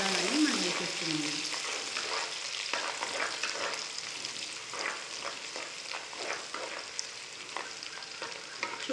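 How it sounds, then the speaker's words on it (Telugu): Coriander frying in a pan with other ingredients for sweet corn Manchurian gravy, a soft continuous sizzle with occasional stirring scrapes, faint and steady throughout. "ఈసారి మనం కొత్తిమీర అనేది దీంతో పాటే వేసి ఫ్రై చేసుకున్నాము"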